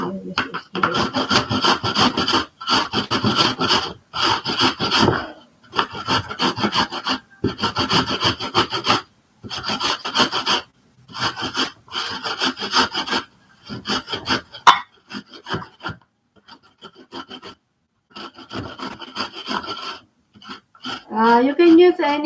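A Fuji apple rubbed back and forth on a grater makes steady bursts of rough rasping strokes with short pauses between them. The sound is fairly loud and close, and someone speaks intermittently over it.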